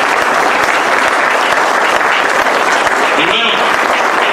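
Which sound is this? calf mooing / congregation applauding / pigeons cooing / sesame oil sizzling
congregation applauding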